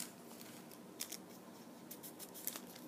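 Paper pages of an altered book, including newsprint and graph paper, crackle faintly and close up, giving soft sporadic crinkles and sharp ticks over a quiet background.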